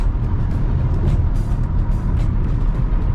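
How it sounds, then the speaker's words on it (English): Kia Sportage hybrid SUV in sport mode at night, engine note rising as it drops a gear, a steady broadband road and engine rumble heard from inside the cabin, continuous and fairly loud with no talking. "if I go to smart and put it on sport, it's going to downshift"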